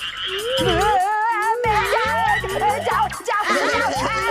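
Rapid, rhythmic cartoon frog croaks repeat in short bursts, with warbling, whistle-like tones weaving above them throughout.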